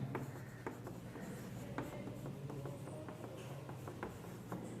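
Chalk or marker writes out a trigonometric identity on a board, producing a quiet series of irregular taps and short scratchy strokes in a soft, steady rhythm with no talking.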